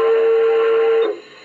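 An electronic train whistle from a RevolutionTrain Engineer sound controller blows one steady, loud, sustained tone for about a second, then cuts off abruptly, with nothing else heard.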